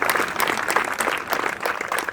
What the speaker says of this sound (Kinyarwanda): Amashyi ndashaka kuyumva